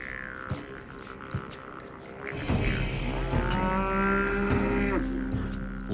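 Cattle in the dry Australian outback give a long, loud, low moo that swells and holds for several seconds after a quieter stretch of open-air background noise.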